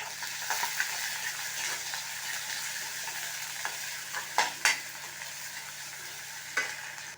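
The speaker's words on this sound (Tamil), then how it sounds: "பொடியாக நறுக்கின வெங்காயம் போட்டிருக்கேன்." Finely chopped onions hit hot oil with popping mustard seeds for Tamil-style potato masala, a steady sizzle and crackle with a few sharper pops and stirring scrapes, no talking.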